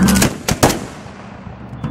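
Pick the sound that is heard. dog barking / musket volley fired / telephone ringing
musket volley fired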